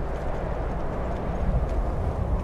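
Horse hooves clip-clop in the video game Skyrim, a steady close run of soft thuds over a low continuous rumble.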